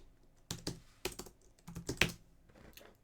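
Keys tapped on a computer keyboard in short bursts and single clacks, close and fairly quiet, with no talking.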